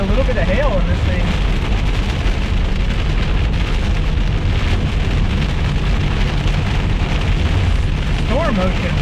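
Hail and heavy rain batter a storm-chase vehicle in southern Oklahoma, a dense, loud drumming right on the body and glass, with a voice briefly heard inside the cab.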